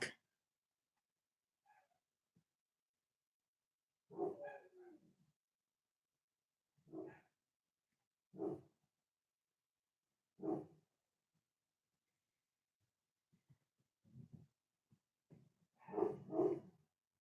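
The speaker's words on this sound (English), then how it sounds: "If you hear the high pitch barking, that's my sister's dog." Dogs bark in short separate bursts from a home, including a small dog's high-pitched yaps, spaced several seconds apart and fairly faint against near silence.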